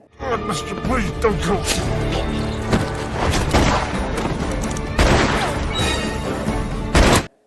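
Loud, busy film action sequence with bursts of gunfire and crashing impacts under music and voices, sharp blasts standing out near the end.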